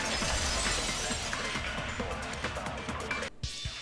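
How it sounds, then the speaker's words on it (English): Glass shattering effect from the Danganronpa 2 video game: a dense, loud crash of breaking glass that fills the clip with continuous tinkling debris before cutting off near the end, with no talk. "the girls heard the sound of the window shattering"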